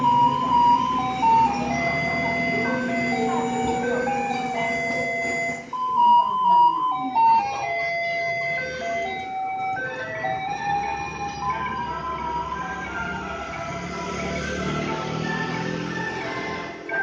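A garbage truck in Taiwan plays its loud electronic melody over and over, a bright tune of repeated notes with a short break in the middle. A vehicle engine rumbles faintly underneath.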